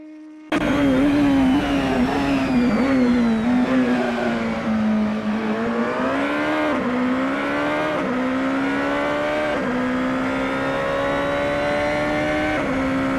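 Super GT race cars accelerate down the start-finish straight at Fuji in the Assetto Corsa racing game, a loud, steady engine drone that climbs in pitch and drops at each gear change across repeated upshifts.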